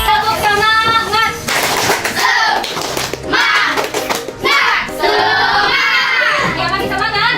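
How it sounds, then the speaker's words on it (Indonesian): A group of children claps a rhythmic spirit clap at a classroom learning activity, short bursts of clapping mixed with loud chanting and shouting voices close by. "Tepuk semangat."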